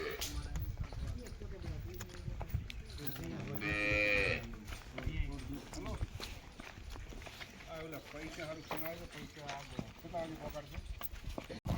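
A Holstein Friesian (HF) dairy cow at a cattle farm in Banaskantha lets out one drawn-out moo partway through, heard under near-constant conversation and general farm background noise.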